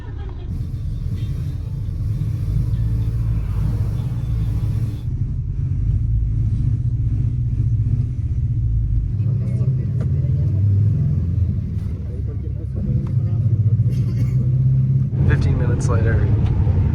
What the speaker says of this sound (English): They turned the engine back on, and they're revving it, but we're not moving.